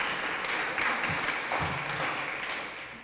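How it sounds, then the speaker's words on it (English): Audience applauding after a legislative speech at a transgender rights forum, a steady dense wash of clapping that fills the whole clip without talk. "Thank you for the applause"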